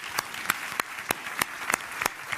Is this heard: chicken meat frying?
no